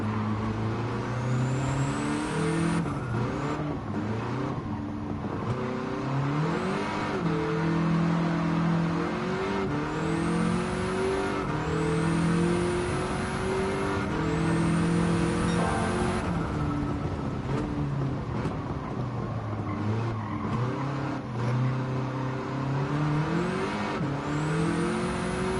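Race car engines roar and rev continuously in Gran Turismo 7, pitch climbing and dropping through gear shifts at a steady, loud level with no talk.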